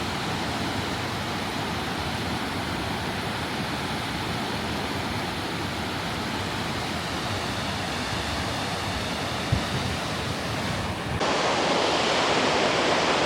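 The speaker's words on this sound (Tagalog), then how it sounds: "Ang lakas ng tagos ng falls niya." Cameron Falls rushes in a steady, loud broadband roar from close by. The roar swells even louder near the end.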